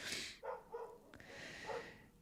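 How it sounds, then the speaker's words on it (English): A few faint, distant dog barks come through, muffled as if from outside, spaced irregularly over a short stretch. "apologies if you can hear the dog barking out there"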